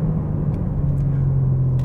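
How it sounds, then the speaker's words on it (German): BMW M4 Competition Coupé engine pulling after an upshift, a steady low rumble with a droning tone heard from inside, no talk. "Er hat jetzt minimal hochgeschaltet und sitzt jetzt nochmal wesentlich knackiger"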